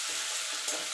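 Dried and green chillies sizzle in hot oil in a home kitchen while an egg curry is being made, a steady close frying hiss with light stirring and no voices.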